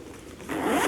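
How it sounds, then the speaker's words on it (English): Zipper on a leather crossbody foldover clutch is pulled in one quick, close rasping stroke that grows louder toward the end, with no talk over it. "There is a zipper."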